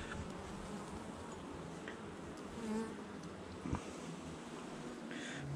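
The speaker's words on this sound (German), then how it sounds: "Wow, auch wieder mit x vielen Bienen drauf, die hier tipptopp gesund sind." Honeybees crowd a heavy food comb during a hive inspection, giving a steady, close, continuous buzz with no talking.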